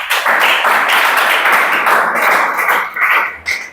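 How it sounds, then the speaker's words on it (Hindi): A classroom audience claps together through a police recruitment coaching session, a dense, steady patter of many hands that holds loud for several seconds before thinning into a few scattered claps near the end. "ताली बजा दो जी"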